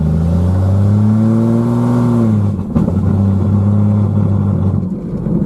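A 1991 Jeep Cherokee engine revving loudly close up, holding a high droning pitch that sags, then stumbling and breaking up with a rough misfiring clatter before settling into a steady strained drone.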